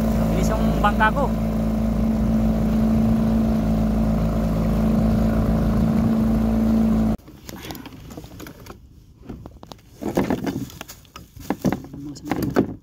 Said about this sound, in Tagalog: Bilis yung bangka ko.